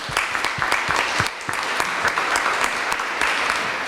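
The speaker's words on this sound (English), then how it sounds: "Let's give the Minister a round of applause." Audience applause for a minister at the closing plenary of a conference, a dense, steady wash of clapping filling the room for about four seconds, loud and continuous with no talk.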